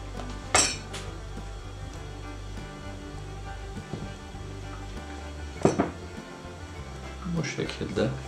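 A spoon clinks against a dish as warm pudding is spooned over fruit, a few distinct sharp taps and scrapes separated by quiet gaps, close by.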